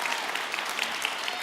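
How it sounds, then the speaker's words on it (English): An audience claps continuously, a dense and even patter of many hands at steady loudness without a break. "that's nice of you to clap"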